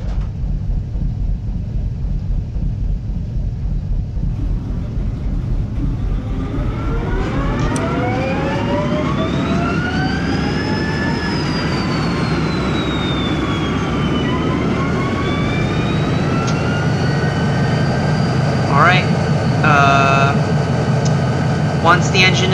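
An EMD Western Pacific GP20 diesel locomotive in Train Simulator 2016 cranks and fires up, a low rumbling idle building into rising, whining harmonics as the engine spools up, with steady loud drone and a few clanks near the end.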